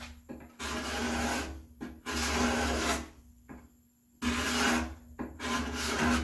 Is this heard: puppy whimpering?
no